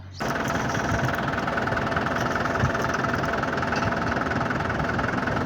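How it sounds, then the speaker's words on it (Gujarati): A tractor engine idles steadily nearby, a constant low rumbling chug with no change in pace for the whole stretch. "આપણે ટ્રેક્ટર આવે છે"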